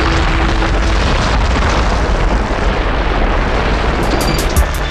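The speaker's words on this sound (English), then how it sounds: "It faces a bombardment by thousands of asteroids, which will destroy" Asteroids pounding the surface of the early moon, a loud, continuous rumble of booming impacts and explosions that stays dense throughout, with a few sharp bursts near the end.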